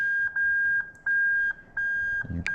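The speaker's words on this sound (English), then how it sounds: "bridge the reverse light and you are going to hear the usual beep from the dash" A car dashboard reverse warning beep chimes repeatedly at a steady pace, a clean pure tone pulsing on and off with short gaps, fairly close and alone.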